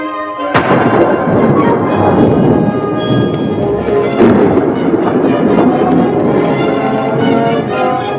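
Heavy thunder from a storm about to break, in a film, cracks suddenly and then rolls on in a loud, long rumble. A second crash comes around the midpoint, and the rumbling continues steadily to the end.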